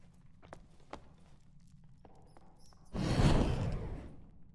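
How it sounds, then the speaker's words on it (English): Faint footsteps in the dark fantasy dungeon game Dark and Darker, a few soft scattered steps at a distance, then a louder rushing burst of noise near the end. "I'm hearing footsteps, but I'm really trying to tell where they are."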